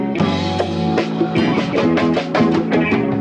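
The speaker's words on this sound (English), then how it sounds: "The lossy really adds that digital sample effect." Sampled hip-hop loop run through a lossy digital plugin that gives a degraded digital-sample character, with dense chords and rhythmic drum hits played loud and continuous throughout.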